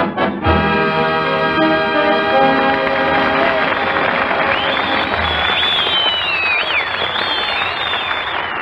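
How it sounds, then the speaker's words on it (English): A 1942 wartime radio broadcast audience of uniformed servicemen claps and cheers loudly, a sustained roar of applause with some whistling, heard over the fading end of a band's music. "Hear all those fellas clapping and cheering out there in the audience?"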